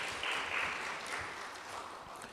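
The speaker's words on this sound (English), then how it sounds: "Give them a big round of applause," Audience applause for sponsors at the launch of a national tourism debate competition, a soft, distant wash of clapping at a moderate, even level throughout.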